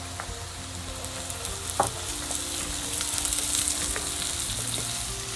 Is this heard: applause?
no